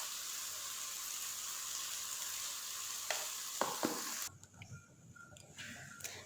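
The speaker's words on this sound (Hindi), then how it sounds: "मसाला अच्छे से हो चुका है फ्राई।" Garam masala, ground coriander and other spices for chicken biryani sizzle steadily in a pan, a continuous frying hiss with a few brief stirring clinks, then the sizzle quietens and thins out near the end.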